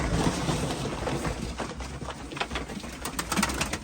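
A breeding male çakmaklı pigeon coos at a loft auction, soft repeated throaty calls rising over a constant background hum, fairly faint and with no talking.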